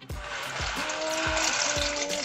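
Liquid poured into a cooking pot while making baked lobster mac and cheese gives a close, steady trickling and splashing stream that lasts about two seconds with no talk.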